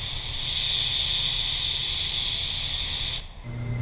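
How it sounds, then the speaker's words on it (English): A paint spray gun set to about 18 psi sprays waterborne sealer and base coat on a vehicle, giving a loud, steady hiss for about three seconds before it abruptly cuts off, leaving a faint low hum. "I always check the gun to make sure my pattern is good. I spray at about 18 psi for my base coat."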